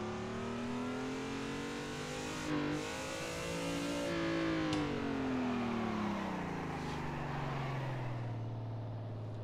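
A car drifts in the racing simulator Assetto Corsa, its engine droning loudly and steadily, pitch rising and then sliding down as the revs drop over several seconds, with a brief blip partway through.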